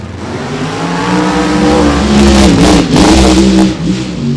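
Turbocharged Funny Car drag racing at Cordova Dragway: a loud, sustained engine roar with rising and falling revs, close by and alone throughout.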